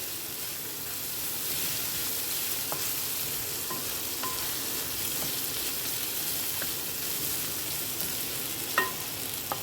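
A steady, even sizzle of food frying in a pan for punarnava greens, with a few faint clicks of a utensil now and then.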